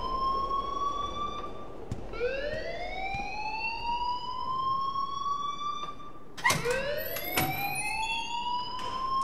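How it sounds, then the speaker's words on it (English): An electronic alarm in the video game Life is Strange wails in rising, sliding tones that repeat in long sweeps, loud and insistent, with a few knocks partway through. "please turn off that alarm since that's your job"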